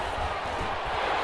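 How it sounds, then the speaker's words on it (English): A stadium crowd roars in an American football video game ahead of a big third down, a dense, loud, sustained wash of cheering with no break. "the crowd getting into it as we come up on a big 3rd down"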